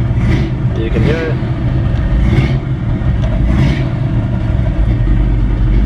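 A V8 engine in a 1957 Chevrolet 3100 half-ton panel truck runs steadily with a deep, rumbling low end, loud and close, while a person talks over it.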